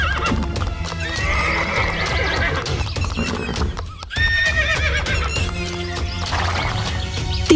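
Horses clip-clop and neigh as three bandits slowly dismount in a Hindi cartoon comedy; loud, busy hoofbeats and whinnies run continuously, with a brief dip near the middle.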